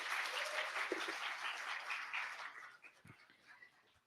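Audience applause for a professor at the opening session of an academic interdisciplinary colloquium: dense, steady clapping from a seated crowd that holds strong, then thins and fades out over the last second with a few scattered claps.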